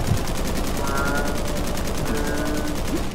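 Rapid automatic gunfire from Halo: Reach rattles in a dense, continuous burst that stays loud and close for the whole stretch.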